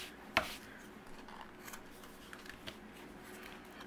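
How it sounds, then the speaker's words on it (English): A single sharp snip of scissors trimming excess paper from a handmade card, followed by faint soft rustling and small clicks in a quiet room. "Any excess overhanging, I'll trim off with my scissors."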